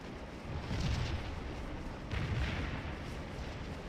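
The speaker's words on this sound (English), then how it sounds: "Artillery." Artillery fire in the Scourge of War battlefield video game: two deep rumbling cannon booms about a second apart, loud and sustained against a continuous battle din.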